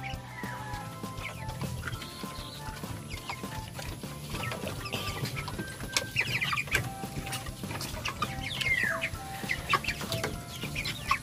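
Backyard flock of about 45-day-old chicks, mostly young males, clucking and calling continuously in a mini poultry setup, with scattered higher chirps over a steady low farmyard background.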